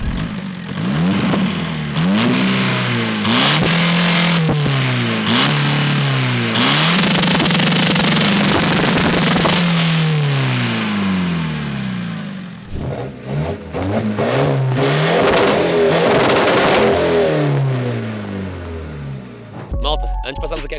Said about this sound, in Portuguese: vamos apenas fazer aqui um soundcheck dos dois carros que irão participar nesta corrida